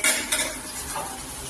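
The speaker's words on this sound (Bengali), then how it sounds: "শাক ভাজা হবে" Leafy greens fry in a pan while a utensil stirs them, brief scraping clinks over a soft sizzle, close and short with no talking.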